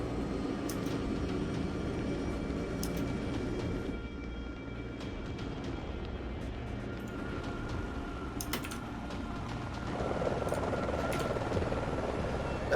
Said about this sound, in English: They've had time to board a helicopter.